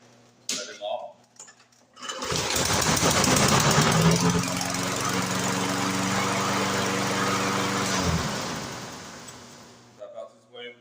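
A lawn mower engine with a freshly cleaned carburetor cranks and catches, then runs loud and steady for about six seconds before winding down, with brief clatter from handling before and after.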